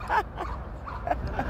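A Border collie gives a few faint yips and barks during a sheep herding session, heard from some distance in an outdoor setting.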